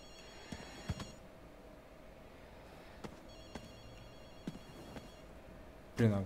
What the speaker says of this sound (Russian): Слушай, где-то телефон звонит.